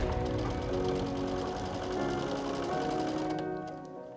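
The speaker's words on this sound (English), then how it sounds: "So I'm going to start sewing right from the top." Sewing machine stitching a quilt-as-you-go French braid block, a steady continuous mechanical whir with fine rapid needle rhythm, fairly close, tapering off near the end as stitching stops.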